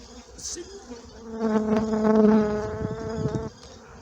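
Honeybees buzz around production hives, a brief high whine early, then a dense close swarm hum building over a couple of seconds before fading, no voices.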